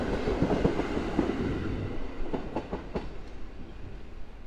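The Kamieńczyk passenger train pulls out of Szklarska Poręba Górna station, a steady rumbling roar with rhythmic wheel clicks over rail joints, gradually fading as the train moves away.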